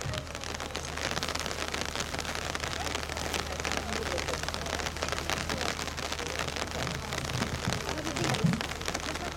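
Rain falls steadily at an outdoor folklore ensemble concert at a lakeside open-air museum, a dense, even hiss throughout, with faint low rumbling underneath.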